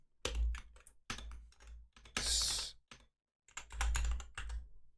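Rapid bursts of typing on a computer keyboard during coding, dense clattering keystrokes in several runs separated by short pauses, close and fairly loud with no voice.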